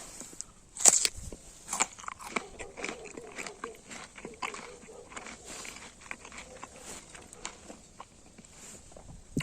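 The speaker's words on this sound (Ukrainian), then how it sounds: "На камеру я її жую, щоб було чутно, наскільки вона хрумка" Close, crisp crunching bites and wet chewing of a firm, juicy pear of the Shin Li type, in irregular bursts that fade between bites, with no talking.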